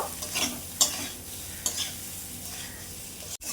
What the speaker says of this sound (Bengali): হলুদ দিয়ে দিচ্ছি সামান্য পরিমাণে। এবার একটু এটা হালকা করে কষিয়ে নেব।